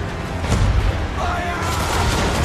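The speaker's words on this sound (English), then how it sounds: "Fire broadside! Broadside from the man of war!" Ship cannon fire from a man-of-war broadside in Assassin's Creed 3, heavy, continuous booming and rumbling that is loud and dense throughout, with battle noise and shouted voices mixed in.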